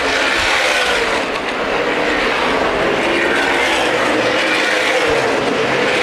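Race cars roar steadily around the track at the 2010 CRA Super Series Winchester 400, a dense, continuous engine drone held at high volume for the whole stretch with no voices over it.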